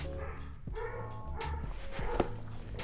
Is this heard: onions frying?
no